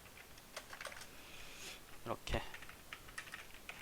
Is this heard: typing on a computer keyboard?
yes